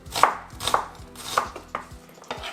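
Knife chopping red onion on a board for a salad: several sharp, close chops at an uneven pace, each a crisp knock with a wet crunch, no voices.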